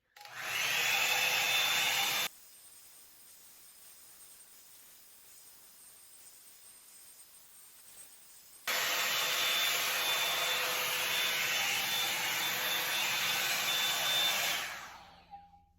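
Revlon One Step hair dryer blowing on high heat: a loud steady airy roar for two seconds, a long stretch of quieter hum, then the full roar again for about six seconds before it fades off.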